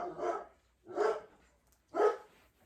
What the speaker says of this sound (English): I better see what they're barking at.